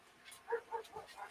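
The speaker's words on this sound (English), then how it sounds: "As you can hear the dogs barking in the background" Dogs bark several times in the background at a home, faint and somewhat distant, a few spaced yips and woofs with a whimpering quality against a quiet backdrop.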